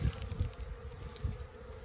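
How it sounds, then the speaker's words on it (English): Honeybees buzz steadily at close range at a hive on a watermelon pollination site, a soft continuous hum with individual bees droning past. "These bees are bringing in pollen, some of them."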